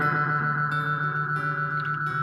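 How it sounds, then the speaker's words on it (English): Guitar played through an echo pedal, a sustained shimmering tone with repeating delayed echoes smearing each note into a spacey, reverberant wash, loud and alone. "I have an echo pedal here."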